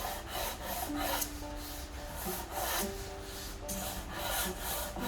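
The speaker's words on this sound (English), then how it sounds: "we're lightly sanding it to smooth it out" Light, rhythmic sanding strokes across a painted wooden windowsill, a steady back-and-forth scrape repeated several times, close up, with no talking.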